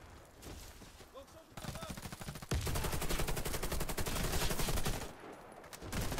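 AK-47 gunfire in the video game Warface, rapid automatic bursts growing into sustained loud fire, with a player's voice talking over parts of it.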